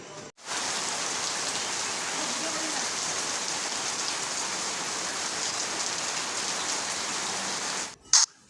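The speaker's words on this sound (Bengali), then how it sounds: "বাইরে কিন্তু প্রচণ্ড বৃষ্টি হচ্ছে" Heavy rain pours outside in a dense, even hiss that stays loud and steady for several seconds, broken by brief cuts and a couple of closer clicks near the end.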